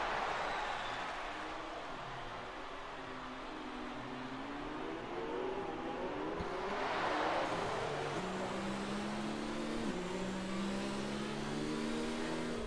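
Racing car engine idling and revving at moderate, steady volume while trailing behind the safety car in a Canada round of a racing video game, with pitch rising and falling across shifts and no voices.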